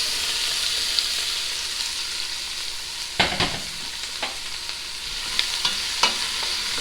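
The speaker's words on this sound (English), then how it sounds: "I'm going to saute these about 4 to 5 minutes, so they're kind of cooked" Mixed vegetables sauté in olive oil in a pan for a homemade tomato marinara sauce, with a steady close sizzle and several scraping stirs of a utensil across the pan, and no voices.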